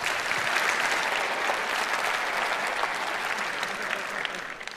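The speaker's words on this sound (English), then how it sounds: "Give it a round of applause." A conference audience at a Vue.js tech talk bursts into sustained, dense applause, steady and full throughout the room with no voices rising above the clapping.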